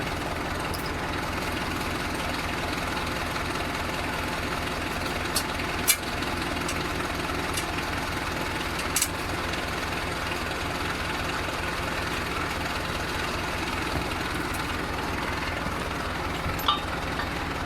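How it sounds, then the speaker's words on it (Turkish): A tractor engine runs steadily at idle-like pace as it is eased forward in a village field, a constant close rumble with a few faint clicks and knocks. "biraz daha ileri alabilirmişiz traktörü yani çok az bir şey"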